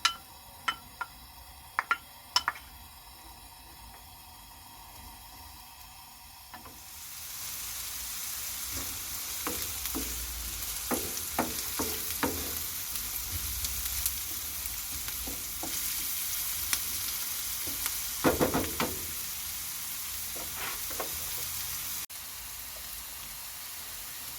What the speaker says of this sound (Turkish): 3 adet orta boy soğanımız var. Güzelce kavuracağız.